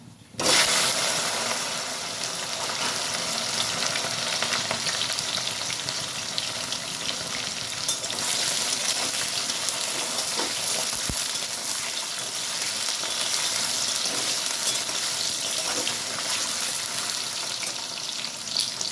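Boiled taro sizzling steadily in hot oil in a pan, a continuous loud frying hiss lasting throughout with occasional small crackles and no talking.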